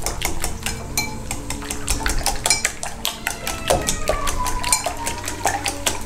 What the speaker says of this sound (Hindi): अब हम आमलेट के अंदर रेड चिली के फ्लेक्स डालेंगे, सॉल्ट डालेंगे और इसको अच्छे से मिक्स कर देंगे।